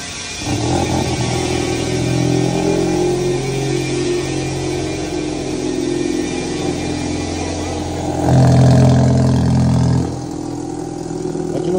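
A BMW 320 with a dual-outlet exhaust idles after a cold start, a steady, loud, rumbling drone that swells briefly partway through before settling back to an even idle.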